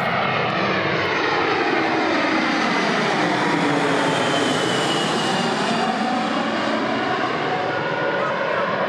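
A fixed-wing airplane passes low overhead near an airport, its loud jet roar sweeping in pitch as it approaches and recedes, filling the whole stretch continuously.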